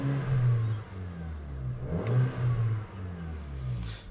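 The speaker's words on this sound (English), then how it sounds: "I'll do a quick rev." A rebuilt VW Golf 5 GTI DSG engine heard from inside the cabin, a low steady rumble that rises briefly into a quick rev before settling back.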